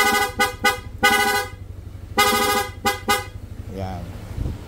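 An aftermarket PIA horn on a Honda Click160 scooter fires in rapid mode, with quick bursts of loud, bright honks in two clusters before trailing off into quieter handling noise.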